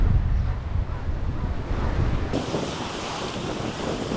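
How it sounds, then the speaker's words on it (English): Sea waves wash onto the sunny beach at Fraisthorpe in Yorkshire, a continuous rushing surf heavily mixed with wind buffeting the microphone, steady for several seconds with no talk. "Oh, a nice little wave there."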